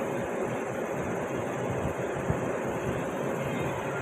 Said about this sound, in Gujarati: ટ્રેન હવે આવી ગઈ